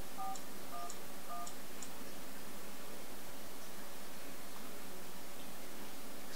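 An HTC Evo 3D phone gives a few short touch-tone dialing beeps at the start, then a long stretch of faint hiss with no voices.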